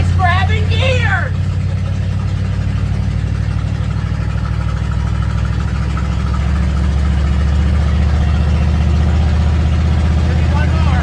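The engine of a tow van hums loud and steady at low pitch while driving and changing gears, continuing throughout; a person speaks briefly at the start.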